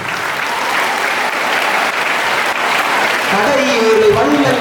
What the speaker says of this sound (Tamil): உங்கள் கைத்தட்டு.